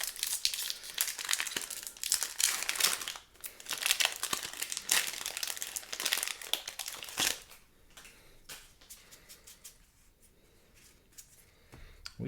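A Magic: The Gathering Modern Horizons 3 play booster pack wrapper is torn open with loud, close crinkling and crumpling for about seven seconds, then quieter rustling of the foil as it settles.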